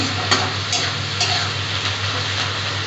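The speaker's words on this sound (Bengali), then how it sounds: "পেঁয়াজটা আমি খুব একটা ভাজা ভাজা করব না মোটামুটি ভাজা হয়ে গেছে" Thickly cut onions fry in a pan, giving a steady sizzle with a few brief stirring scrapes over a low constant hum.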